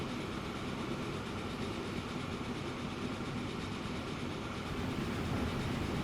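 Trains running on a railway in the Transport Fever 2 video game, a steady loud rolling rumble with faint rhythmic clatter that holds evenly throughout, with no talk over it.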